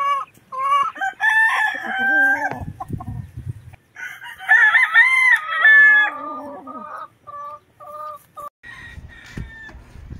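Gamefowl roosters crow loudly and repeatedly up close, long drawn-out calls with clucking and farmyard fowl noise between them, while a hen of pure Possum Sweater bloodline is shown.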